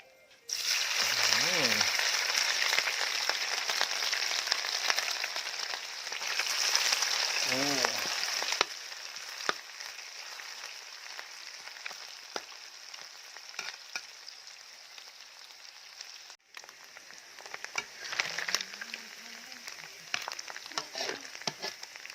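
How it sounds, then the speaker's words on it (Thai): Fish roe frying in oil in a Thai Isan home kitchen, a loud steady sizzle that eases after the first few seconds, with stirring clinks and a couple of sharp knocks, and talk in the middle of the stretch. "นังปลา เอามาเจียวเลยครับ"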